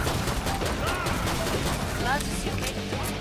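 Gunfire from the video game Killing Floor 2 on a Christmas map, a dense continuous barrage of shots under game noise with a voice speaking over it.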